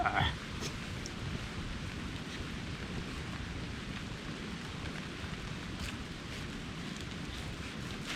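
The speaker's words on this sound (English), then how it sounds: "Here comes the rain." Steady rain falls at a tarp campsite in the bush, a dense, even hiss with drops pattering on the tarp and a low rumbling undertone of thunder, continuous and fairly close, with no talking.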